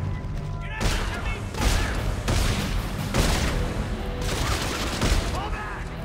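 Repeated gunfire in the sci-fi horror game Dead Space 3, including a line cutter weapon, comes as a series of loud, sharp bursts over roughly six seconds amid dense game noise, with a player talking over it.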